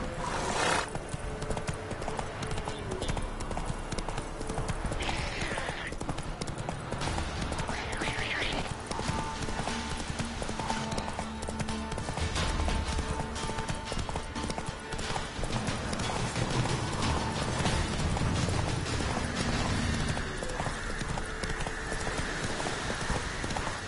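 Roach, Geralt's horse in The Witcher 3 on PS4, gallops near a bandit camp, continuous fast hoofbeats with an occasional whinny layered over dense game music and ambience.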